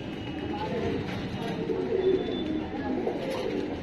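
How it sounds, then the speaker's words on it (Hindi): Low, soft cooing of several pigeons nearby in a loft, overlapping in a steady murmur with faint rustling in the enclosed space. "अब दूसरे लॉफ्ट के मैं आपको कबूतर दिखा देता हूँ"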